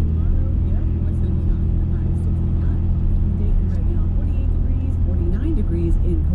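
A car driving along a road on the way to a small store in Ohio, its engine and tire noise forming a steady, loud low rumble throughout, with faint talk mixed in.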